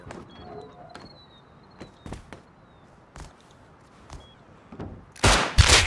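Gunfire in the online survival game Rust: scattered distant single cracks through the first seconds, then a loud close burst of shots at the end, with faint ambient whistling and rustling underneath.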